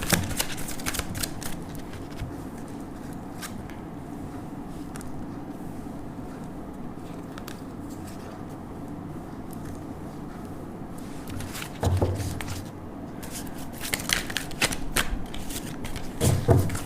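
Tarot cards shuffled by hand in a steady, continuous riffling rustle, close and moderately loud, with sharper slaps and flutters toward the end.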